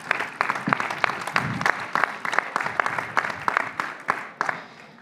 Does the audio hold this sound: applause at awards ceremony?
yes